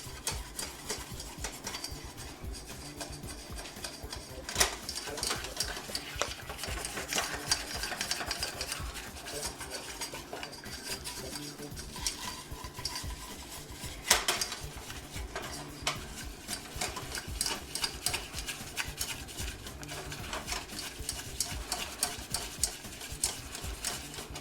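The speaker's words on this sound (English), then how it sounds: "2 tablespoons of butter, 2 tablespoons of flour. So let me go ahead and get that stirred up and get it incorporated." A spoon scrapes and stirs a butter-and-flour roux in a pan for bechamel for Kentucky-style creamed spinach, giving a steady close rasping and clinking of utensil against metal with soft sizzle underneath, no talk.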